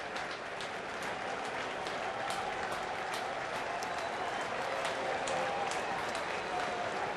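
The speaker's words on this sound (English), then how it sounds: "So here's Heston, who gets a nice round of applause" Baseball stadium crowd applauding a pitcher of the Giants, a steady roar of clapping and cheering from a large audience filling the whole stretch at even loudness.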